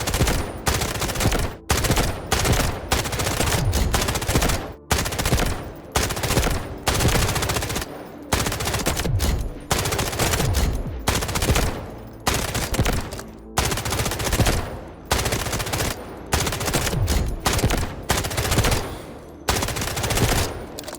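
Rapid automatic bursts from a K416 assault rifle in the shooter game Delta Force, loud and close, firing in repeated sprays separated by brief pauses over about twenty seconds.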